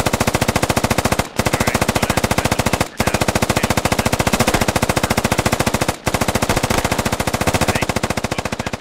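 Sustained machine gun fire in the military shooter Squad, loud rapid evenly spaced shots in long bursts broken by three brief pauses.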